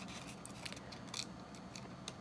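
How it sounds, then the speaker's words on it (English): Scissors slowly close along the edge of a crepe paper peony petal, giving a run of soft crisp snips and rustling paper clicks, close and quiet with no speech. "I slowly close my scissors as I move my petal back and forth with this hand here."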